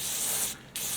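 Aerosol spray hisses in steady bursts around a grimy motorbike fork seal, a loud close broadband squirt with a brief pause before resuming.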